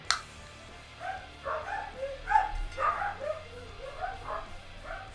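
Dogs barking and yipping in a home, a scatter of short, mid-level barks with some whimpering, faint and fairly distant, with no talk over them.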